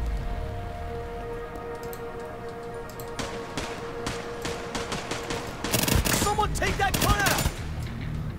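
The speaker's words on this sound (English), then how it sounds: "nobody can withstand the power of the machine gun" Rapid bursts of minigun fire from The Division 2 rattle loudly in a video game firefight, starting as scattered sharp cracks and building into dense, continuous machine-gun fusillades over a low background hum.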